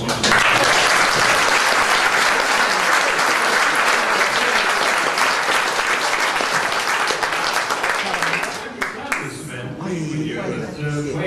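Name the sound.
applause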